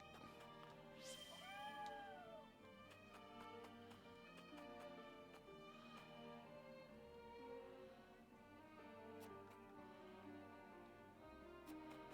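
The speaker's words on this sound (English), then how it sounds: "It's a cat." A cat in the video game Triangle Strategy meows a couple of times early on, short rising-and-falling cries over soft, continuous game music.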